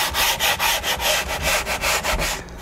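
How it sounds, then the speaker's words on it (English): Sandpaper rubs back and forth against the wooden edge of a model aircraft's vertical stabiliser in quick, even strokes, loud and close with no talk. "Now what I do is I just take the sandpaper and just cut an angle in it."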